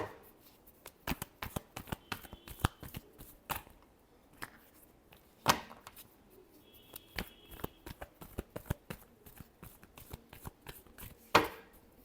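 Tarot cards are shuffled by hand in quick, crisp riffles and taps, close and fairly quiet, with irregular bursts and short pauses throughout.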